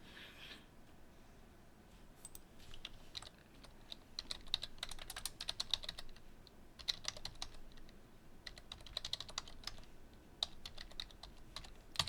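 Computer keyboard typing during coding, with quick irregular clicks and short bursts of keystrokes close to the mic, broken by brief pauses and with no talking.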